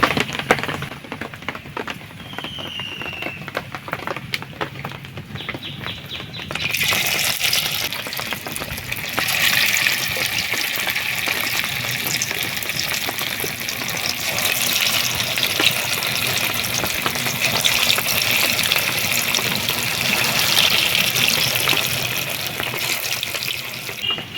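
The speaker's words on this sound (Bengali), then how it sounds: "তেল গরম হয়ে গেছে পকোড়াগুলো আস্তে আস্তে দিয়ে দিই" Prawn pakoras drop into hot oil in a wok and begin frying, a quiet start that swells after a few seconds into a steady, close bubbling hiss that continues to the end with no talk.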